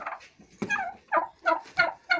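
A turkey gobbles in several short, rapid bursts, fairly close, with brief pauses between calls.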